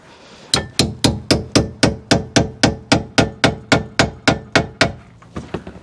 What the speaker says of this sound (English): get this tool in between these two jaws and then hammer it in